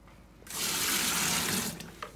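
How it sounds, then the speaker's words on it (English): Water from a bucket gushes into a Twin Spin XPB36-388S twin tub washing machine, a loud steady rush of splashing liquid lasting under two seconds before tapering off, with no talk. "Okay, I'm here to add another bucket of water."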